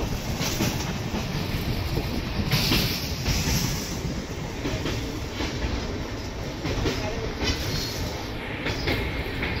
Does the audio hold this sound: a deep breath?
no